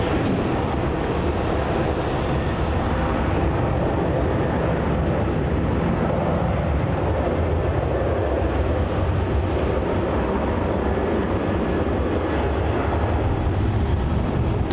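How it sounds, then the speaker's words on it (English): A Virgin Australia airliner departing Melbourne Airport for Sydney, heard as a loud, steady, broadband engine roar that fills the whole stretch without letup, with no voices over it. "Departing there is Virgin Australia flight VA833 heading off to Sydney"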